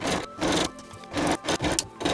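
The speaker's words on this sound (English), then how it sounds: "I took it to the sewing machine and stitched it" A sewing machine stitches the side seams of a fabric gown, giving close, rapid rattling bursts that start and stop several times in quick succession, with no speech.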